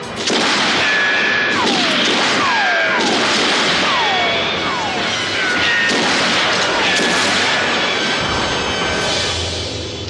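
Loud, continuous bursts of gunfire and crashing blasts with descending whistles, a dense chaotic barrage that eases slightly near the end.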